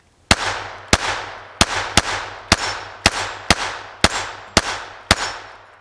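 Taurus TX22 pistol firing CCI Mini Mag .22 rounds, ten sharp close-up cracks at a steady pace, each with a short fading echo, and no talking.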